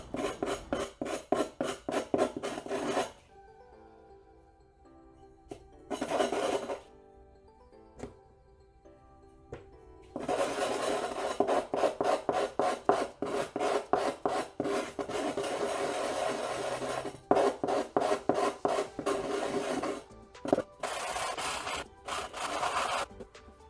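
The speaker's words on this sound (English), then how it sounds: "let's not forget to sand down the corners" Corners and edges of a freshly cut glass sheet being hand-sanded with grit paper, giving repeated quick rasping strokes in bursts separated by short pauses, close and fairly loud with no talking.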